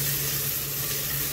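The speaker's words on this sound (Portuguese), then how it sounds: "eu tô fritando aqui, ó, com 2 colheres de sopa de óleo, uma cebola grande, um pimentão, 4 dentes de alho" Onion, bell pepper and garlic sizzling in oil in a pot, made with two tablespoons of oil, a large onion, one pepper and four garlic cloves for a pot roast with cassava; a steady, close, even hiss with no talking.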